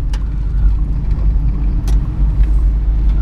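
A 1967 Ford Mustang with a manual transmission drives over a rough road surface, with a loud, steady low engine and road rumble from inside the car and occasional light knocks.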